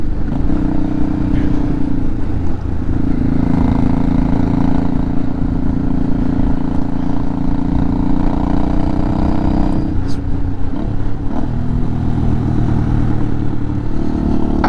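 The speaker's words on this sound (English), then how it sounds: "I got a really loud tick coming from the top end in this thing" A 40-year-old Honda Shadow 500 motorcycle engine runs steadily up close, its loud idle carrying a rapid top-end tick, with a brief shift in engine tone near the middle.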